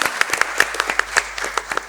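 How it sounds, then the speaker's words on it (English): An audience at the Tata Crucible Corporate Quiz 2024 Delhi cluster final applauds a finalist, giving loud, crisp claps in a quick, slightly uneven rhythm. "Put your hands together for him."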